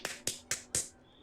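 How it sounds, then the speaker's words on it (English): A woman claps her hands four times in quick succession, sharp close slaps with a brief pause between them and no talking over them. "She's clapping."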